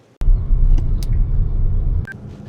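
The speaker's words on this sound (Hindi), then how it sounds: "मयंक आ गया है और हमने अपनी गाड़ी स्टार्ट कर दी है।" An MG Windsor EV on the Delhi–Dehradun expressway, a loud steady low road rumble that starts abruptly and fills the interior, with a few short electronic beeps over it before it drops away.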